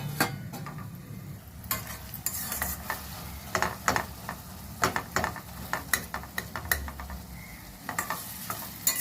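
Tomato pieces soften in a pan for an Andhra-style fresh fish curry, giving a steady low sizzle broken by frequent sharp scrapes and clinks of a stirring spoon, close and moderately loud.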